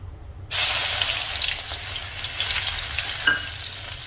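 Crushed garlic dropped into hot oil sizzles loudly from the moment it hits the pan, a steady close frying hiss with a little stirring toward the end, cooking for a methi aloo dry dish.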